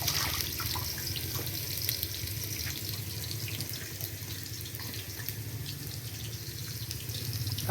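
Tomatoes are washed under steadily running water in a rural Kenyan village kitchen, a continuous close splashing and trickling that holds an even level throughout with no voices.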